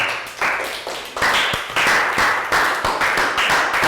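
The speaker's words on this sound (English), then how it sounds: "Round of applause for Nadia." A primary school class claps for a classmate, a brief burst of uneven, close hand claps from a small group of children in a classroom, with no talking.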